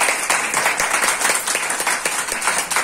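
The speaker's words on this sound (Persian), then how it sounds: "تشویق واقعا داشته باشید" An audience at a ceremony honouring a master musician applauds, a dense, sustained clapping at a steady level throughout.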